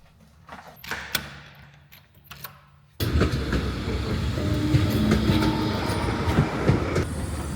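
A tram rolls along its rails, starting suddenly with a loud, steady rumble and rattle after a few quiet knocks and footsteps, and continuing close by with clicks and faint wheel squeal.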